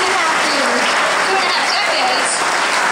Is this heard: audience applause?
yes